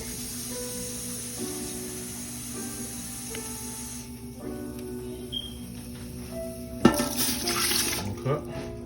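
Water poured from a cup into a rump roast stew, a gentle running splash repeated across several pours, fairly close, with a brief louder splash near the end.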